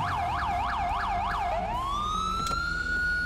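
A police siren in GTA FiveM roleplay wails loud and close, opening with a fast rhythmic yelp that rises and falls several times, then shifting into a long rising tone that holds steady.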